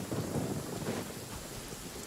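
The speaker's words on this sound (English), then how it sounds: "Uh-oh! Lightning storm!" Thunder rumbles with steady rain during a lightning storm in a video game, a continuous low roar filling the whole stretch without any voices.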